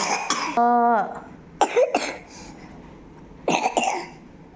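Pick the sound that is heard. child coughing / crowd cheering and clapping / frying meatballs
child coughing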